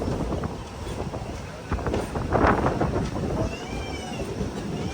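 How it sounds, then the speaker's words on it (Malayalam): A train pulls into Nagapattinam railway station at platform one, a steady broad rumble of wheels and carriages with wind noise over the microphone, swelling slightly midway and holding close and loud throughout. "നാഗപട്ടണം റെയിൽവേ സ്റ്റേഷനിലേക്ക് ഇതാ നമ്മുടെ ട്രെയിൻ എത്തിക്കൊണ്ടിരിക്കുകയാണ്"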